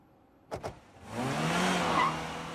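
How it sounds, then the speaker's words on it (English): A car speeds off fast at the scene of a crime, tyres squealing as the engine roars away, preceded by two sharp knocks like doors slamming; loud and close, with no talk. "they sped off very quickly"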